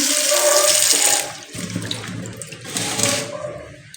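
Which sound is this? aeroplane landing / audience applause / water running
water running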